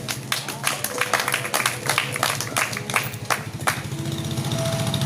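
Congregation at a Spanish-language Wednesday prayer service applauding, a dense run of claps with steady crowd noise that fades into an even roar.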